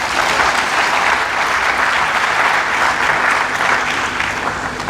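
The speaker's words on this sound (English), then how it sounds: "please, a round of applause for him" A hall full of people at a university inaugural lecture applauds steadily, a thick, even wash of many hands clapping for about five seconds without a break.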